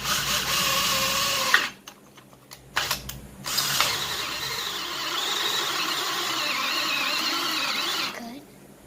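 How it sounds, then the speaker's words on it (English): A drill fitted with a 13/32 bit bores out a hole, its whirring grind running steadily and close after a brief stop-start burst of mechanical clicking near the beginning. "We're going to drill it out to that and then proceed."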